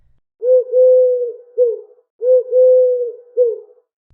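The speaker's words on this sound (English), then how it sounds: "The pigeon says," Two clear, close pigeon coos, each a soft rolling phrase with a short trailing note, repeated in a steady pattern against a silent background.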